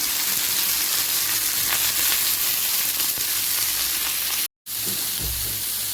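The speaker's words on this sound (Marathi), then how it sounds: "टोमॅटो, आणि छान सगळं हे वाटण ना एकजीव करायचं, म्हणजे सॉटे करायचं पूर्ण।" Tomato masala paste sautés in a pan for paneer butter masala, a loud, steady close sizzle and crackle with occasional stirring scrapes, briefly cut to silence near the end.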